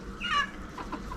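Big hens of a docile breed cluck in a short close burst, a couple of throaty calls from the flock over a quiet backyard coop.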